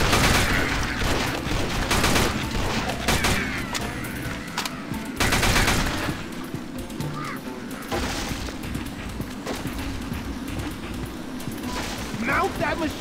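Machine gun fire from the video game Dead Trigger 2 comes in dense, rapid bursts with short pauses between them, mixed with other game noise and voices talking.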